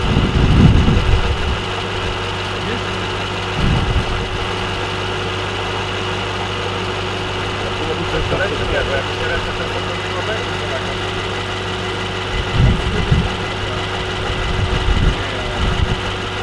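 A parked Mercedes idles with a steady low hum, broken every few seconds by brief heavier pulses of vibration, while people talk over it.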